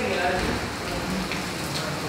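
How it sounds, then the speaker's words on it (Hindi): Steady patter of rainwater leaking through a roof, dripping and splashing onto the floor of a hospital urology ward, continuous and fairly close, with faint voices in the background. "ये बारिश का पानी है"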